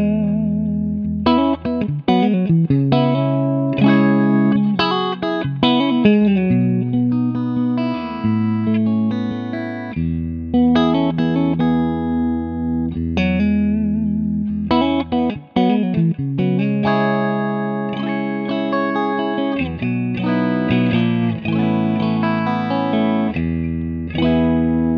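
Fender American Ultra II Stratocaster electric guitar with noiseless pickups, played through effects with a distorted, chorus-tinged tone: strummed chords and picked melodic phrases ring on steadily and loudly for the whole stretch, close and without any talking.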